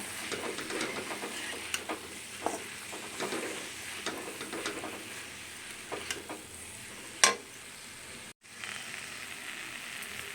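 Grated coconut being mixed into capsicum vangibath in a pan, repeated spatula scrapes and stirring strokes over a light sizzle, close and steady, one sharp clack near the end.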